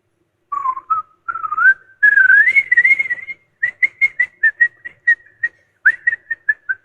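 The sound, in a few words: person whistling a tune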